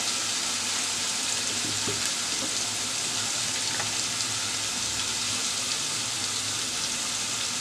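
Onions frying in a pan with turmeric powder, a dense, loud, unbroken sizzle with a few faint clicks of stirring, no voices.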